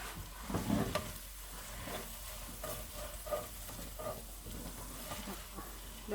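Rice noodles being stirred in a frying pan, a soft continuous sizzle with intermittent scraping and clacks of the utensil against the pan, fairly close, with quiet speech in the background.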